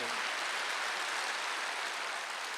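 A church congregation at a Wednesday worship service claps in a steady, even wash of sound that stays level and fairly soft throughout, with no voices heard over it.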